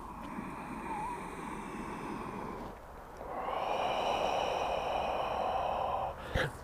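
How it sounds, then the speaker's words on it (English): Deep, noisy breathing done as a relaxation exercise, a steady rushing breath that swells into a long drawn-out exhalation, close and alone, ending with a soft bump. "The key is to try to be noisy with the breath."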